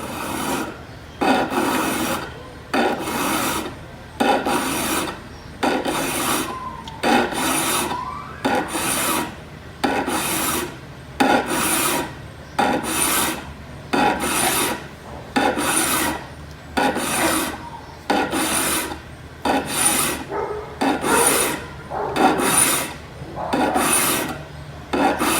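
A hand file rasps along a blade's cutting edge in steady, rhythmic strokes, about twenty even scraping passes with short gaps between them, close and loud with no talk.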